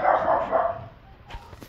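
A Great Dane gives a couple of short, whiny barks up close, then a quieter yip near the end.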